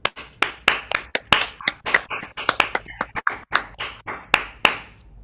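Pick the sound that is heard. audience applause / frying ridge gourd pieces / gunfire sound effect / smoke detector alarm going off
audience applause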